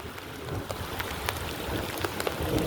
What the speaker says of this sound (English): Oh, so much goddamn rain. The streets are being flooded.